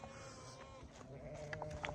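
A lamb bleats several short times outdoors on a farm, its thin calls rising over a steady background, fairly close and moderately loud, with no talking.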